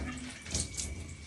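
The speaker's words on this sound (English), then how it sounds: "Take a little bit of water, pour it, and clean all of your foot." Water poured over a bare foot while washing during wudu, a soft, brief splash and trickle heard close and quietly.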